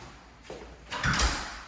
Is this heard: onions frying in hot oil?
no